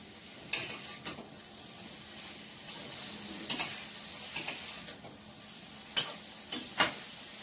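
Food sautéing in a pan sizzles softly and steadily while a utensil stirs it, scraping the pan in separate short strokes spaced a second or more apart, close by and with no talking.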